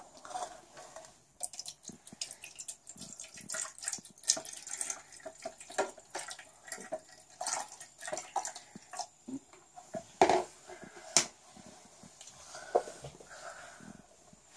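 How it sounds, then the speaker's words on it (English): Water poured into a Cole & Mason Fresh Herb Keeper, a close, uneven run of splashes and drips against plastic with a few sharper knocks, no talk. "Now you need to pour water till this line."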